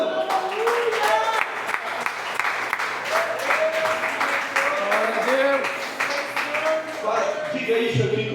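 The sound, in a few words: church congregation applauding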